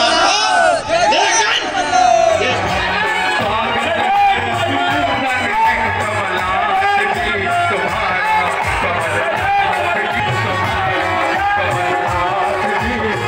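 A large crowd at a Kamal Nath political rally in Madhya Pradesh, a dense, loud outdoor hubbub of voices with occasional shouts and cheers running steadily throughout.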